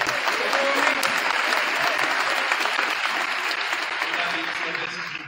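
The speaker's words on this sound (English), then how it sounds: "Please a round of applause." Audience applauding at a school event honoring a contributor, a dense, steady roar of clapping filling the room, loud and sustained before easing slightly at the close.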